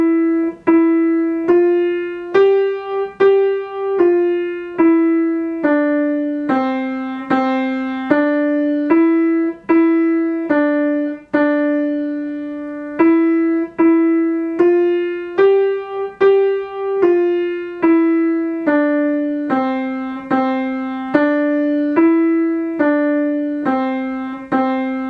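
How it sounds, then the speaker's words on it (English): A piano plays the melody of Ode to Joy slowly and evenly, one clear note after another in a steady rhythm, close and fairly loud with no talking, during an adult beginner lesson. "This song, Ode to Joy, sounds like this."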